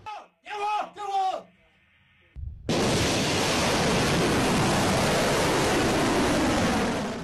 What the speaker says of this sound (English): simulating a fast take on the missile launching site, then carry out the launching process